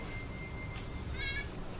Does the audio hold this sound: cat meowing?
yes